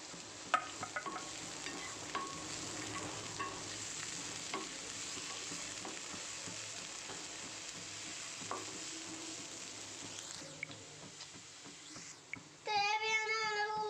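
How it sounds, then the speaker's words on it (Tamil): Onion and tomato sauté in hot oil for a red spinach omelette, a quiet, continuous sizzle broken by soft stirring scrapes, with a brief voice-like sound near the end. "வெங்காயம் தக்காளி சேர்த்து வதக்கிக்கலாம்."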